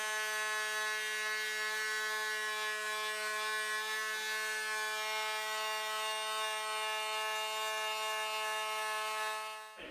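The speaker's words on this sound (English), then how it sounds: "we're going to do is just going to use it just to sand this profile" A Fein MultiMaster oscillating tool sands a concave wooden profile, giving a steady, loud, high buzzing drone that runs unbroken throughout, with no talking.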